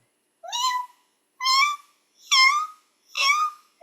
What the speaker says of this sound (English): and meow, meow, meow as a grown-up rusty spotted cat